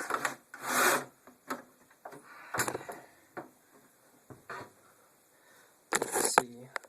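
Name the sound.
pulling a knob off a Tektronix 2247A oscilloscope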